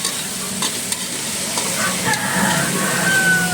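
Pancit noodles stirring and frying in a pan, a steady close sizzle with scraping utensil clicks and taps throughout, without any talking.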